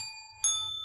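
A single bell dings at an improv comedy show, a bright sustained ring that starts partway in and carries clearly over a quiet room.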